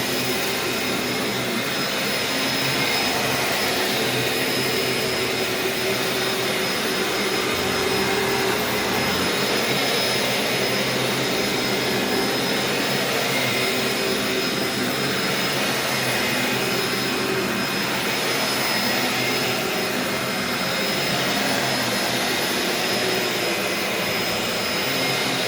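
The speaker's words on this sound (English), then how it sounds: "I'm just vacuuming." A Dyson DC04 Absolute+ vacuum cleaner runs steadily in a home living room or bedroom, a loud continuous whooshing motor drone that holds level from start to finish with no talk over it.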